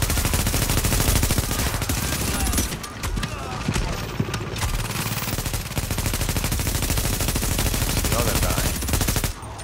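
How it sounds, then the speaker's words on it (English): Rapid bursts of automatic gunfire crackle through a firefight in Tom Clancy's The Division, dense and loud with brief breaks between volleys, while someone talks over the shooting. "I'm shooting everyone, everywhere but the guy."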